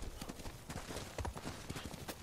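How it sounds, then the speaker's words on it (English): Horse hooves clip-clopping in the video game Ghost of Tsushima, a quick irregular trot of soft thuds, faint and low in level. "we've got this new horse as well"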